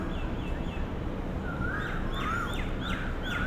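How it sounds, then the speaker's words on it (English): Birds chirp and call in short bursts over a constant low background rumble, moderately distant. "you can listen surroundings of birds chirping."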